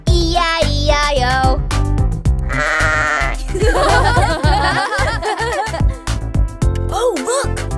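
Cartoon sheep bleat within a children's farm song, bright wobbly baa sounds alternating with sung melody and music, loud and up front.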